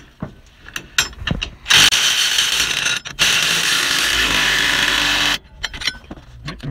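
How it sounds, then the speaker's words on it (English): Ratchet wrench with socket and adapter tightening bolts on a tow bar installation for a 1999 Fleetwood Discovery motorhome: quick clicking ratchet strokes, then longer steady whirring runs, close and loud, with no talk. "the adapter and our socket. And we'll start to tighten these up."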